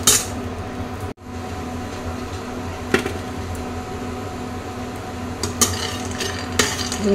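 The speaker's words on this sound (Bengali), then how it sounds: "এবার আস্তে আস্তে সুন্দর করে ভেজে নেব" Fish sizzles steadily in oil in a pan while a utensil knocks and scrapes against it a few times, close and fairly loud.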